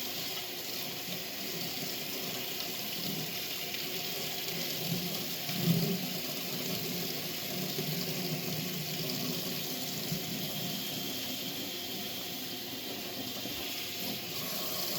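Water pours steadily from a sink tap as hands are rinsed, making a continuous close splashing hiss with a brief louder splash partway through.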